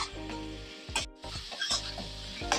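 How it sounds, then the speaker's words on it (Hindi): Chicken keema frying over a high flame in a karahi and stirred with a utensil: a steady close sizzle broken by scraping, clattering stirs, with a low hum underneath. "तेज फ्लेम पे अब इसको हम मिक्स करेंगे इस तरीके से और इसको अच्छा सा फ्राई करेंगे"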